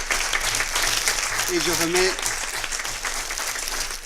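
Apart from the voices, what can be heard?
applause for the panel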